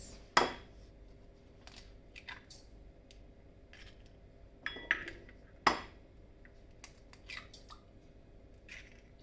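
Three eggs are cracked into a mixer bowl with coconut sugar for an apple cake, giving a few sharp, close cracks and clinks of shell on the bowl rim, spaced apart over a quiet kitchen background.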